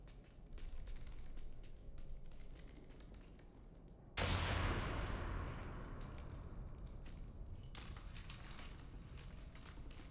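A rifle shot in the Reanimal video game: one sudden loud blast that fades into a lingering noisy decay over quiet ambience.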